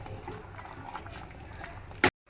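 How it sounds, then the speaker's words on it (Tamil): Head curry being stirred in a pot after water is poured in, a wet sloshing, bubbling churn close by throughout, ending in a sharp brief clatter before sudden quiet. "தண்ணி ஊற்றிட்டு நல்லா கிளறணும்."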